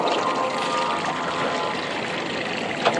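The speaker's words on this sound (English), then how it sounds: "747 Qantas coming from Johannesburg." A Qantas Boeing 747 airliner from Johannesburg passes overhead, heard from a boat as a steady, loud, broadband jet roar that holds throughout with no clear rise or fade.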